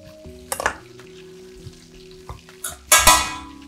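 Breaded meat crackles in deep-frying fat, quiet bubbling broken by two louder bursts of hissing sizzle as pieces are moved, close by with no voices.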